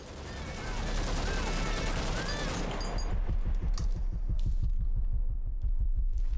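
Gunfire in Metal Gear Solid V, a rapid string of muffled, rhythmic shots over a low rumbling hum, starting faint and getting denser and louder toward the end.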